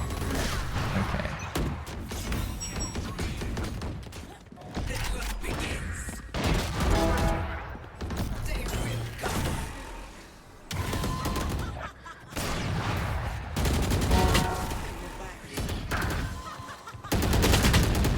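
Video game gunfire rings out in repeated bursts and single sharp shots, some fired through a wall, loud and rapid with short gaps between volleys.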